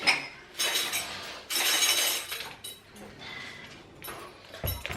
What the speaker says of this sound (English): I'm gonna pack out the dishes, so you're gonna do the spoons and the fork